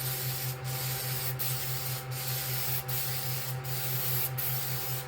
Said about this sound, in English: So we start spraying top to bottom.